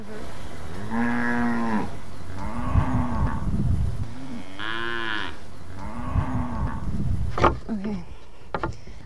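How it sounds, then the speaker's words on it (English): Black Angus beef cattle in a cow-calf herd moo repeatedly, with four long, loud, drawn-out calls overlapping one another, and someone talks under the closing moments. "And here is our cow, one of our cow-calf herds."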